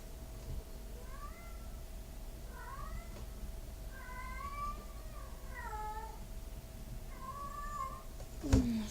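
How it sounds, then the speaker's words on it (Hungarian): A cat meows several times in short, rising-and-falling calls spaced about a second apart, fairly close, over a low steady background hum, ending with a brief bump. "Sír a macskám, pillanat."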